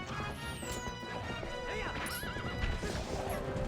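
A horse whinnies in a wavering call amid horseback combat in The Legend of Zelda: Twilight Princess HD, with clopping hooves, crashing hits and swooshes layered in a busy game soundtrack.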